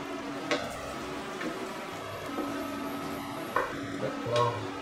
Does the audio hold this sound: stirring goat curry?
yes